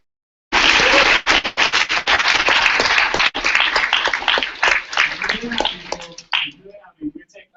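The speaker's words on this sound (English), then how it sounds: "round of applause for all of the speedos" Audience applause at the LODLAM 2015 conference: a dense burst of clapping starts abruptly, holds steady and fairly loud for about six seconds, then thins into scattered claps before fading out.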